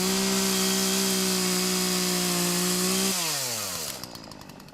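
A chainsaw engine drones loudly at a steady high rev, then the throttle drops and the motor winds down toward idle.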